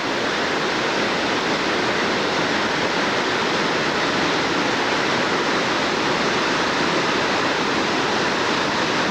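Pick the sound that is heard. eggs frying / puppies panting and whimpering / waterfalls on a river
waterfalls on a river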